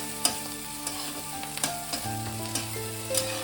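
Dried prawns fry in a pan with a continuous close sizzle, punctuated by several sharp scraping stir strokes.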